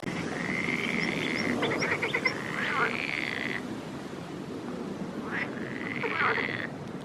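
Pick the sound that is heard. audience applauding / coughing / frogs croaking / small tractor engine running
frogs croaking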